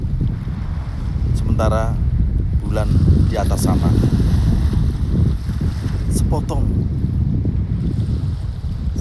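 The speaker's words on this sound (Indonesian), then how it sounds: "mendengarkan deru mesin kapal seperti nyanyian ombak yang sangat akrab untuk memeluk nelayan" A fishing boat's engine rumbles low and steady at sea, blended with wind buffeting the microphone and the wash of waves, while someone narrates in Indonesian over it throughout.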